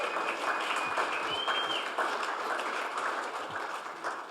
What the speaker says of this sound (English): Round of applause for Emily.